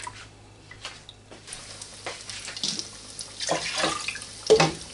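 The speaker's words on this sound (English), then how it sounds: "I wash my hand between each because I don't like that gummy feeling" Water runs from a kitchen tap in bursts as hands are rinsed between shaping salmon cakes, splashing and gurgling close by, growing louder toward the end with no talking.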